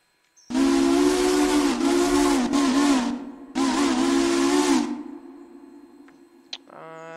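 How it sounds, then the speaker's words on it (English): Southern Longbell three-chime steam whistle in the game Railroader sounds two long, loud blasts separated by a short gap, with a breathy hiss behind the chord, then a quick higher toot at the end. "We have a Southern Longbell 3 chime."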